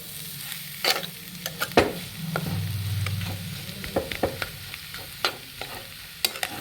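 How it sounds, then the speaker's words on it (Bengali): Chicken and potato sautéing with spices in a pan, with a steady low sizzle broken by repeated sharp scraping stirs of a utensil against the metal, close and alone without talk. "এবার ভালো করে মশলাটার সঙ্গে মাংস, চিকেন, আলুটাকে ভালো করে কষিয়ে একটা পুর বানিয়ে নেব।"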